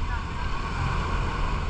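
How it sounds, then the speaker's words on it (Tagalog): Strong sea waves surge and slap around a boat during island hopping off Boracay, a steady, loud wash of water and wind noise filling the whole moment with no pauses. "Ang lakas ng alon."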